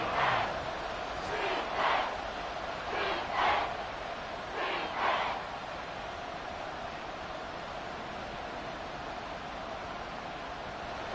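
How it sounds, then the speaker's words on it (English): Stadium crowd at a Dallas Cowboys vs Carolina Panthers football game gives off a sustained, moderately distant roar, swelling in several short surges before settling into a steady wash of noise. "this crowd doing their best to make a lot of racket"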